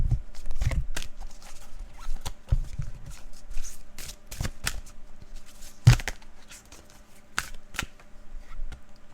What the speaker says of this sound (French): Pour le tirage, c'est pas trop gênant puisque de toute façon vous avez déjà le bruit des cartes.